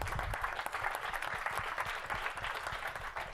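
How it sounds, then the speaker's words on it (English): Audience clapping after a talk about maps, a modest, steady patter of hands from a seated crowd, fairly quiet and continuous for a few seconds. "Big round of applause."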